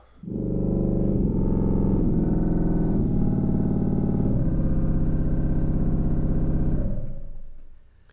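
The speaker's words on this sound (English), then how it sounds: "Contra trombone, which is a bigger, louder stop." A loud, rumbling contra trombone reed stop on a church pipe organ sounds sustained bass notes that change a few times, then fade out with a slight rattle.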